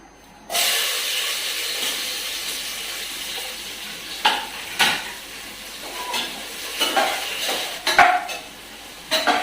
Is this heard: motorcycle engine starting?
no